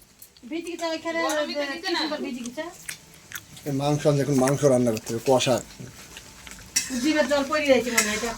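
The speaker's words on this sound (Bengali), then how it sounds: "দিদি বানাচ্ছে গোকুল পিঠে আর ওইটা কি ভাজা পুলি" Gokul pithe and puli, traditional pitha sweets, frying in hot oil in a home kitchen, with a steady sizzle and occasional stirring scrapes running under loud, continuous conversation close by.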